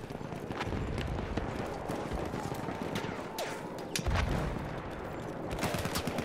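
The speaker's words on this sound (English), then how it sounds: "Everybody just shooting at me today." Battlefield 1 online match on Xbox One: rapid bursts of gunfire and scattered shots crackle close over a dense, rumbling battle din, with running footsteps mixed in.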